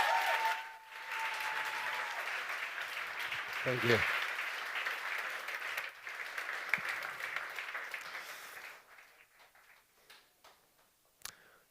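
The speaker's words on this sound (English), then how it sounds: "I want a big round of applause" An audience at a New Year's event gives a round of applause, dense and steady at first and then gradually fading to scattered claps, with a brief spoken thanks partway through.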